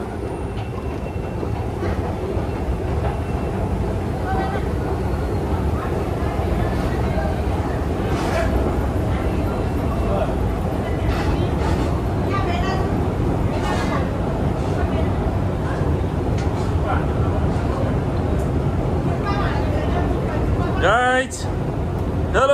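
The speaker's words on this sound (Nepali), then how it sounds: "अब हामी अन्डरग्राउन्ड ट्रेनमा जाँदैछौँ" A London Underground train rumbles along with a loud, continuous roar and rattling, with wheel screeches near the end and voices talking faintly under the noise.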